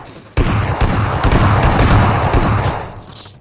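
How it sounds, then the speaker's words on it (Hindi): Dense rapid gunfire from PUBG Mobile, a sharp onset followed by loud, continuous bursts of shots that fade slightly toward the end. "मुझे गोलियां पड़ रही"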